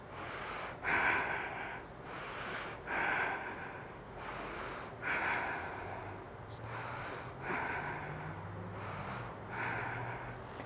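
Deep rhythmic breaths taken while holding a side plank in a yoga-style workout, about five slow cycles of forceful inhale and exhale, close and fairly loud, with no talking.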